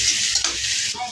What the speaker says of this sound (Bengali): এদিকে পেঁয়াজটাও দিয়ে নিতেছে কড়াইয়ের মধ্যে।